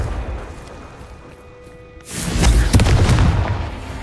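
In the Hogwarts Legacy video game, a Confringo blasting spell goes off: after a quiet moment, a sudden loud booming explosion bursts in and leaves a rumbling, crackling tail.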